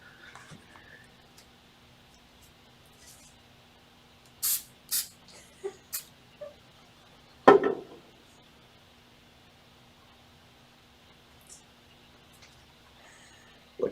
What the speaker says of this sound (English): I know what I can do. Dytrans Pro Spray.